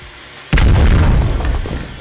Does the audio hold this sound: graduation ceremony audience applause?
no